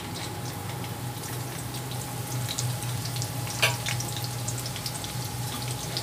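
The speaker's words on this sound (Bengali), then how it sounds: "দিয়ে আমি এটাকে সামান্য একটু লাল লাল করে ভেজে নেব।" Ginger, bay leaf, garam masala and green chili sizzle steadily in hot oil, a dense, even crackle with one brief sharper pop partway through and no talking.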